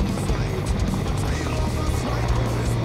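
A military helicopter coming in to land at a NATO Days 2017 military display, guided down by a smoke grenade, gives a steady, dense rotor and engine roar throughout, with a voice faintly audible underneath.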